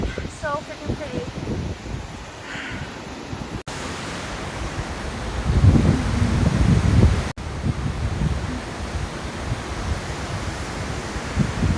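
Nambe waterfall at a dam rushing as a broad, constant roar of falling water, loud and close, with wind buffeting and brief cuts between shots.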